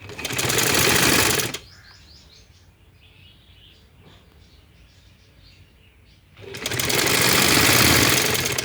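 A sewing machine runs in two loud, steady bursts while stitching a women's kunday wali shalwar. A quieter pause with faint chirps sits between the bursts.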